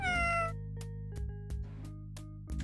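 A single video game cat meow rings out at the start, followed by a steady synthetic hum and a series of short clicks and blips at even intervals.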